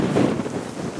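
Strong outdoor wind in Alaska buffets the microphone in a brief burst of low, gusty rumble, loud and close.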